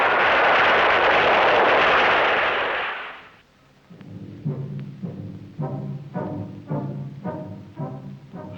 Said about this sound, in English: Impact.